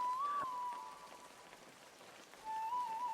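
Steady rain patters softly on surfaces in a village during a multi-day downpour, a faint continuous hiss under a sustained high musical tone at the start and end.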